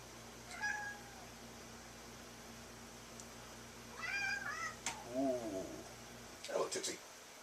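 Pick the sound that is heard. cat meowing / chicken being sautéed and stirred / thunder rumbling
cat meowing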